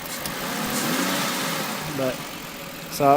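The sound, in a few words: engine idling higher than normal after throttle body modification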